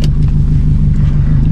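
A Subaru drift car's engine idles steadily up close, a loud, continuous low rumble that holds even throughout with no voices.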